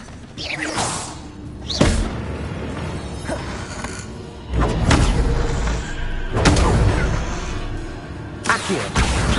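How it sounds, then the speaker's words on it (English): Bombarda explosion spells from Hogwarts Legacy, several heavy booming blasts with thuds and whooshes spread across the clip, loud and close, with a voice calling out between them. "Bombarda."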